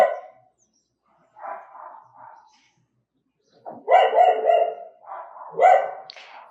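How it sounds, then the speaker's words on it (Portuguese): Dogs bark outdoors in a few separate bursts of several barks each, moderately close and clear against a quiet background. "E temos cachorros latindo, gatos chegando com carros chegando com música, pessoas passando."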